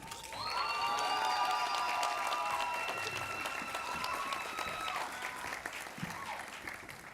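A large commencement crowd at a university law school ceremony bursts into loud, sustained applause with cheering and whistles, the clapping swelling quickly and holding steady before gradually thinning.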